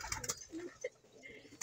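Pigeons in a fancier's loft give soft low coos and a few short calls, close but quiet, with faint background noise between the sounds.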